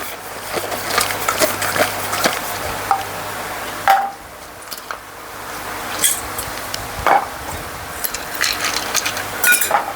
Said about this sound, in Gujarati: એક ખાંડ તળાઈ ગયો અને આ બીજો તળું છું